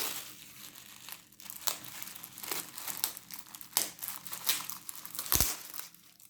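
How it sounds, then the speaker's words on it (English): Tissue paper is peeled off a tarot deck with close, crisp crinkling and rustling in uneven bursts, ending in one sharp tear-like crackle. "I take the tissue off the deck itself"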